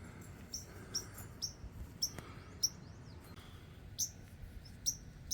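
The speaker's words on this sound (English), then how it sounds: "I hear some birds." Birds chirp in short repeated calls in a yard on an Alaska farm, one or more birds near their hidden nest, sounding fairly close over a low steady background hum.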